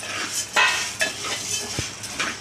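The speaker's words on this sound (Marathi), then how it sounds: "आता आपण चणा डाळ भाजायची" Chana dal roasts dry in a pan while a spoon stirs it, making repeated scraping and light metallic clinks at an irregular rhythm, close and moderately loud, with no talk.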